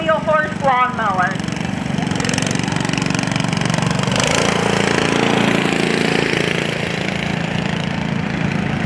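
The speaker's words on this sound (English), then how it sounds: "he is driving an 8-horsepower wheel horse lawnmower" An 8-horsepower Wheel Horse lawnmower engine runs steadily and loudly at an engine show, its continuous chugging drone filling the whole clip, with brief voice-like tones near the start.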